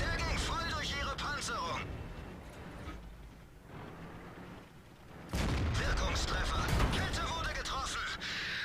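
Panther tank cannon shots in World of Tanks ring out as loud booming blasts with ringing echoes, separated by a quieter stretch, under continuous game sound effects.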